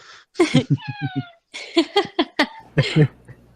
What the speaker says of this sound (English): My cat says hi.